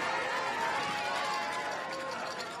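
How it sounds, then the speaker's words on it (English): A big audience applauds the beauty pageant contestants at the Miss Universe 2017 preliminary, a dense, sustained roar of clapping and cheering that fades slightly at the end. "let's just give every contestant a loud round of applause"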